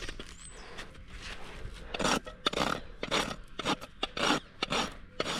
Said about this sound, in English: When I run the rasp pretty much straight, the hoof is like this, the rasp is like this. I'm taking off toe length right now.